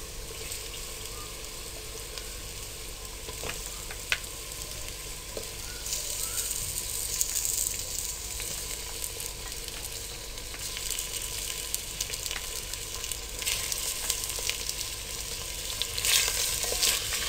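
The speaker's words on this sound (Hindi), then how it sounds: "इसको हल्का सा फ्राई कर लें" Mutton pieces fry in a pot for Peshawari namkeen handi gosht, giving a steady, close sizzle that swells louder midway, with a few faint clinks and scrapes and no talking.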